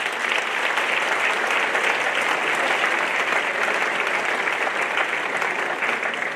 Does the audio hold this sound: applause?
yes